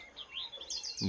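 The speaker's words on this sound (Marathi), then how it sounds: "बघा ही पाखरं सकाळ सकाळ लई त्रास देते" Several quick, high chirps from sparrows around a sorghum crop, faint and somewhat distant, tumbling over one another in a short burst.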